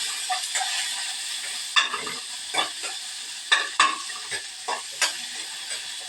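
Turkey berries being stirred and sautéed in a pan, a constant light sizzle broken by irregular scraping clinks of the spoon, close and moderately quiet, with no one talking.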